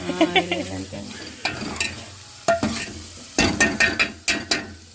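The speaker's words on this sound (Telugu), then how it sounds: "దీన్ని బాగా వేగనీయాలి మసాలా అయితే బాగా ఆగాలి" Masala spices sizzling and frying in a pan while being stirred for a home-style country chicken curry, with repeated scraping stir strokes over a steady close sizzle and short voice fragments.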